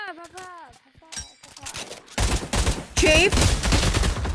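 Gunfire in an Oculus Quest 2 virtual reality game, a dense run of loud, rapid shots arriving after a spoken word, with voices and a brief ringing tone over the shooting.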